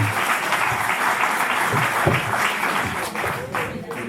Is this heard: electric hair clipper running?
no